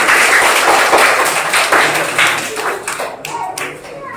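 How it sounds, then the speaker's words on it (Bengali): Children at a primary school celebration clap loudly together in a dense, sustained burst of applause with faint voices mixed in. "জোরে হাততালি হয়ে যাবে।"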